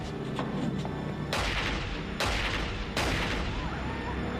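Gunshots ring out during a hostage standoff in an X-Files episode, three heavy booming reports spaced about a second apart, each with a long ringing decay over quiet background sounds.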